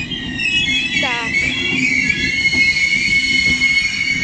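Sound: departing passenger train

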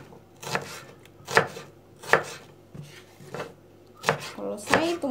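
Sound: chopping onion

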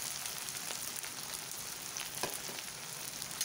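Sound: chopped onions frying with cumin in a pan

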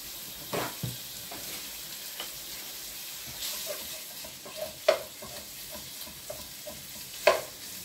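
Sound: minced meat being broken up and frying in a pan

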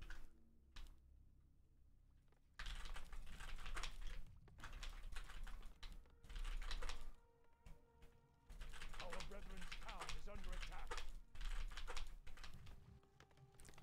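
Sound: old computer keyboard keys being pressed

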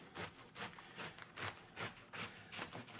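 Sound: knife cutting cabbage into thick slices

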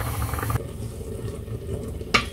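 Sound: orange marmalade starting to boil in a pot

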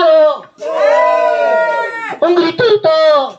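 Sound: audience shouting little screams

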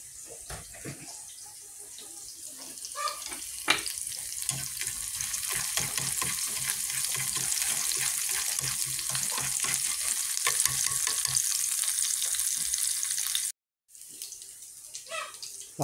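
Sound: fish braising with pepper in a pan

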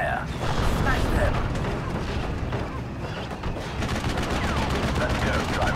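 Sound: gunfire from Steel Division Normandy 44 video game

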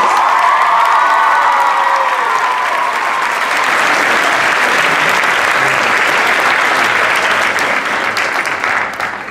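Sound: audience applause at a benefit concert

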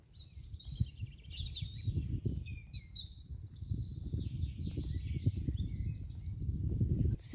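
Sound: birds singing in forest, including a tit

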